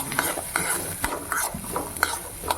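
Carrot pachadi stewing in a pan while a spoon stirs it, with close, irregular scraping and clinking strokes over a soft sizzle, no voices.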